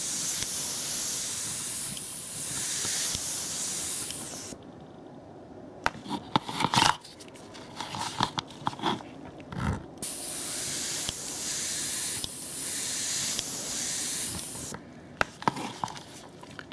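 Airbrush spraying sleeper grime weathering onto the underframe of a model railway wagon: bursts of close, steady hiss separated by pauses, with brief handling clicks and rustles in between.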